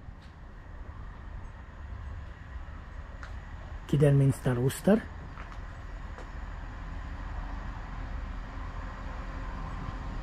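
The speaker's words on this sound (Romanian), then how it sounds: "Iată și trenul nostru care vine de la Stratford-upon-Avon." A two-car train pulls into a station on the Stratford-upon-Avon line, its steady rumble running throughout, with a short horn-like tonal burst near the middle and a brief station announcement.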